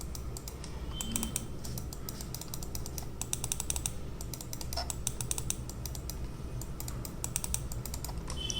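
Rapid runs of crisp clicks come from a Logitech G402 gaming mouse button pressed close up, in irregular bursts over a constant low hum.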